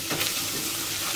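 Flour and dried mint sizzling in a pan over lowered heat as a spoon stirs them, a dense, continuous frying hiss with soft scraping, close and alone.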